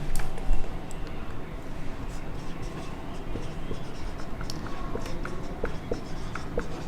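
Steady scratching of writing on a board during a biology lesson, continuous and close with small taps as strokes start and end, with only faint voice in the background.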